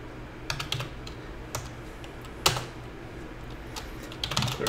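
Irregular bursts of clicky keystrokes on a computer keyboard while entering a Java compile command, close and fairly quiet, with uneven pauses between short runs of typing and a sharper clack near the middle.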